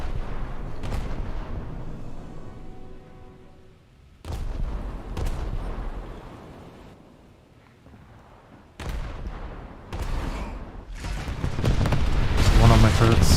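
Battleship Bayern's heavy guns fire in a naval combat video game, booming salvos in separated bursts with rumbling decay, the last growing louder and denser.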